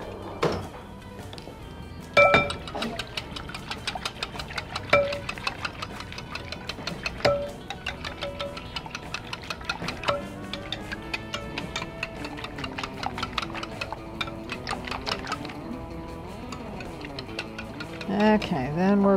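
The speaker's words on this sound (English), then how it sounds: "We're going to whisk our eggs and milk." A whisk beats eggs and milk in a bowl for a Christmas breakfast casserole, making rapid, regular ticking clinks against the bowl that continue close by throughout.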